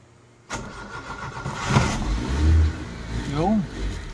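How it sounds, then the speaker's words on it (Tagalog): A car engine cranks and catches with an abrupt start, then settles into a rough running idle with a short rev, while people talk nearby. "Engine start muna tayo."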